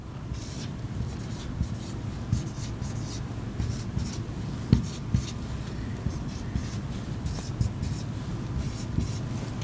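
Pen scratching steadily across a board or paper as a teacher draws an economics diagram, a faint continuous scraping with small taps, close over a low background hum.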